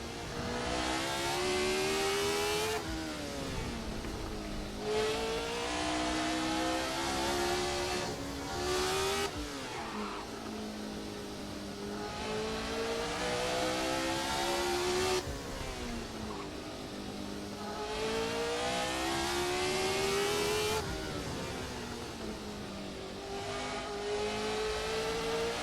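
Car engine pulling hard in second gear on the Nürburgring, a loud sustained roar that climbs in pitch repeatedly with brief drops at each lift or shift, close and continuous with no talking.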